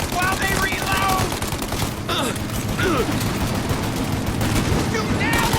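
Rapid gunfire bursts crackle continuously through a shootout in Mafia: Definitive Edition, with dense overlapping shots, a brief lull near the middle, and shouted voices over the volley.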